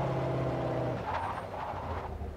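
A Bugatti engine in the racing game Forza Horizon rumbles steadily and close by, with a low droning tone that shifts as it revs slightly; no voices.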